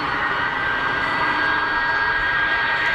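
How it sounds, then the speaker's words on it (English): Delta Boeing 767-300 jet taxiing at Geneva Airport, a loud steady engine whine and broad roar with a thin sustained tone, constant throughout. "Delta has pushed back, and it's on the taxi. 767-300 out to JFK."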